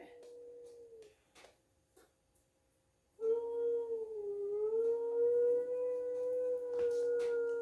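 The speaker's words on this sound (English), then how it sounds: "My dog needs a little bit of attention." A dog howls in a long, sustained, wavering tone that starts after a few quiet seconds and a couple of brief whimpers, heard indoors, moderately loud and close.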